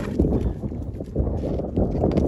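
Hooves of a large draft mare, an Ardennes or similar heavy horse, clip-clopping on the ground in a steady walking rhythm, fairly close, with wind buffeting the microphone.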